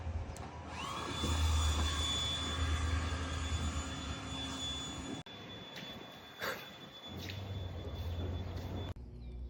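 A blower whines loudly while blowing dust off a homemade Batmobile Tumbler car, a steady high-pitched rushing roar that cuts out briefly partway through and then resumes, with no talking.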